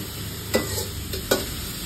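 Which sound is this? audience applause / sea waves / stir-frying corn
stir-frying corn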